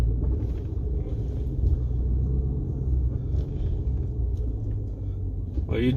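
A fifth-generation Chevrolet Camaro SS V8 holds steady revs on launch control, a deep continuous rumble with some wind buffeting, while someone talks over it.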